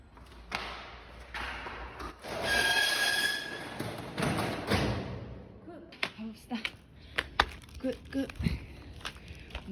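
A roll-up metal shutter on a shop front is hauled upward with a long clattering rattle, followed by scattered knocks and thumps, with some talking nearby.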